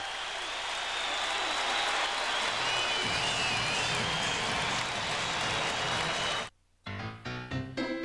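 Basketball crowd roaring and cheering at Madison Square Garden during a Knicks versus Trail Blazers NBA game, a loud sustained wash of noise that cuts off abruptly near the end, followed by music.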